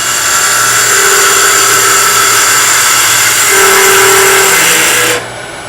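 A skew chisel cuts too wide on short softwood stock spinning on a lathe, producing a loud, steady whining vibration with a higher tonal chatter partway through, close up and continuous until it drops off at the end.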